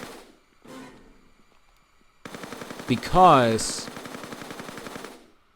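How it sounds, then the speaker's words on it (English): Rapid automatic gunfire rattles in the video game Tomb Raider III, a steady burst of close shots aimed at raptors, with a brief animal screech and someone speaking over the firing. "I was shooting at him."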